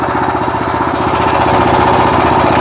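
A Weima Deluxe WM1100FE-6 walk-behind tractor's engine runs loud and close, a fast, even chugging knock that stays steady as the machine pulls away, with no voices over it.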